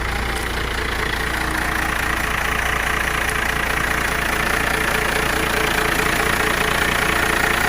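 A 12-valve Cummins diesel idles steadily after a cold start, a loud, continuous low rumble with knocking clatter that never breaks, with no voices over it.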